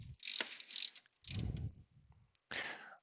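A ratchet wrench tightens bolts beside the oil filter during an oil leak repair, several short bursts of clicking close to the microphone separated by brief pauses.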